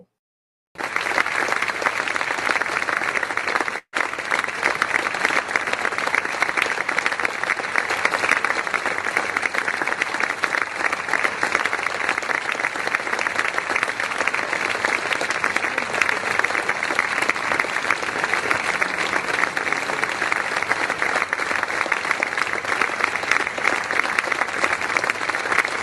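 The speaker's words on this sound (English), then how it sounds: "we have a proper applause for our sponsors" An audience gives a long, sustained round of applause for event sponsors, a thick wash of clapping that stays loud and even throughout with only a brief break near the start.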